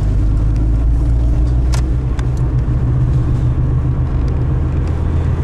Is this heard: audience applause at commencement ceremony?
no